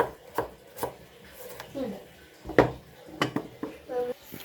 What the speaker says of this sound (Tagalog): Saslice lang natin tong ating mga sangkap mga bor.